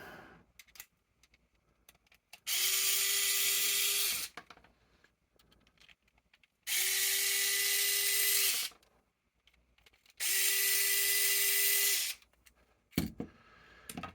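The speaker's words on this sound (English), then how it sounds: "we'll just go ahead and use the vessel screwdriver, a little power screwdriver" A small Vessel power screwdriver backs screws out of a Bitdsk N8-T mining unit, whirring in three separate bursts of about two seconds each, with quiet handling clicks between them.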